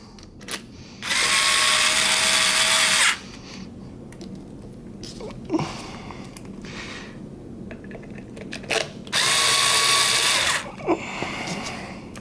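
A screwdriver, likely powered, drives screws into a SecuRam SafeLogic safe lock during reassembly, giving two loud, steady whirring bursts of about two seconds each, separated by quieter clicks and handling noise.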